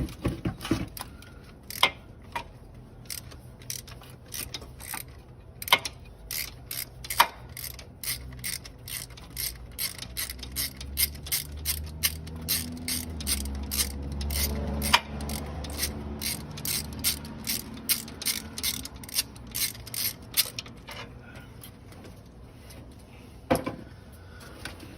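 A bolt is worked loose from the AC belt tensioner on a 2001 Chevrolet using a ratchet, with rapid, close metallic clicking in bursts and short pauses, the loose bolt rattling as it turns.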